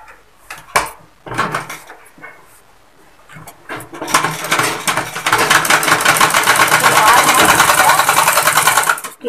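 A sewing machine stitches fabric in a tailoring shop: a few clicks and handling knocks at first, then a fast, loud, steady mechanical whirr and rattle of the needle running continuously.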